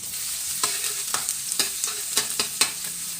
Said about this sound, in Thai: ผัดกระเทียมให้หอมค่ะ